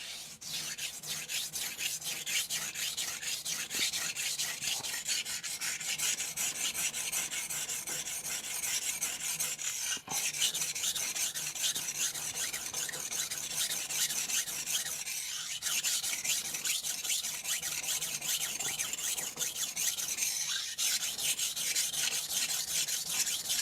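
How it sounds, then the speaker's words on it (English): Carbon steel Shirogami santoku blade, 165 mm, ground on a 320 grit Shapton Rockstar whetstone, giving a steady, continuous gritty rasping with regular back-and-forth strokes, close and alone without talk. "here goes the 320 grit Shapton ROckstar"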